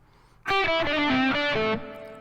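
A short distorted electric guitar blues lick, a quick run of bent and sustained notes that rings out briefly and then fades.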